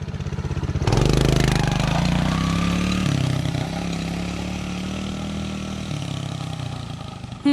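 A Sunl SLA 90cc Chinese four-wheeler ATV ridden through the woods by a young kid: its small engine revs up loudly and close, shifting pitch as it accelerates and then holds a steady drone.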